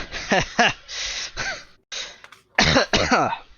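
A voice imitates a wounded elf's cough in a spoken fantasy role-play game: several rough, throaty coughs and gasps in short bursts, close and fairly loud, with brief pauses between them.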